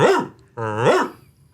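A voice imitates a dog, giving two loud, close, gruff barks in quick succession with a brief gap between them, each one harsh and growly.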